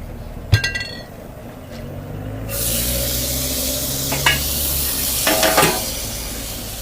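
Metal utensils clink and scrape against a wok as mee goreng noodles are stir-fried at a Malaysian stall, with a steady loud sizzle rising partway through and sharp clanks scattered throughout.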